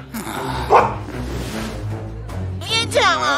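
A dog barks in short bursts and yips between excited human voices, with someone shouting nearby and a lot of household commotion.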